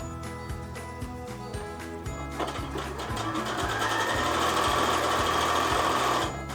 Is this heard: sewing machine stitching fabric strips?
yes